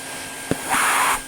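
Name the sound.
1980 Spinney U62 vacuum cleaner running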